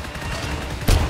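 Bursts of gunfire in the co-op shooter GTFO, a rapid rattle of shots under game noise, with one louder, sharper blast near the end.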